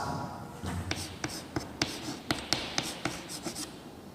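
Chalk or marker writing on a classroom board: a quick series of faint, sharp tapping strokes in an irregular rhythm, close by in a quiet room.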